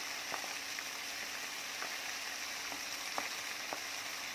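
Vegetarian pork frying in a hot pan with young corn, a steady broadband sizzle throughout with a few sharper crackles and pops scattered across it, close and continuous with no talking.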